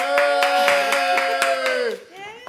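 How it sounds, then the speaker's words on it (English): A family claps and cheers at news of a baby: about eight steady, evenly spaced claps under a sustained whooping voice, close and loud, ending in a brief lull. "They're cheering, but they are not that excited."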